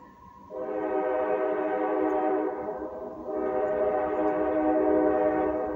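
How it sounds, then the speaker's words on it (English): Train coming up the tracks, its horn blowing two long sustained blasts with a short gap between, loud and fairly near over a low rumble of the rails. "I hear that train coming up the tracks"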